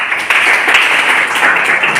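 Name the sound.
class applauding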